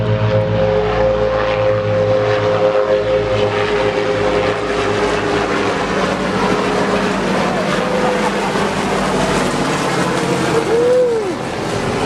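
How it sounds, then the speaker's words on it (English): Three army helicopters passing overhead during garage work on a cargo rack, a loud, steady rotor and engine drone that fills the whole stretch without letup. "I got some helicopters flying over."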